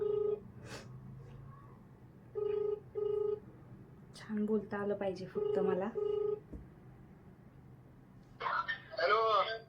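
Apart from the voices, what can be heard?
phone call dialing and ringing on speakerphone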